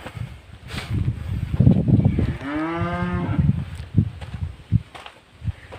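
A single long, loud cow moo on a cattle farm rises and falls in the middle, with rustling and footsteps before and after it; no talking.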